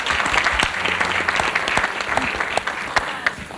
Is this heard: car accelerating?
no